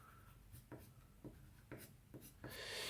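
A watercolor pencil drawn across paper in short, separate strokes, each a soft scratchy rub with brief pauses between them, quiet and close, ending in a longer, brighter scribble.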